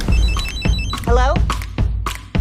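A mobile phone rings in short repeated bursts of a bright electronic tone, close and loud, while people talk over and between the rings.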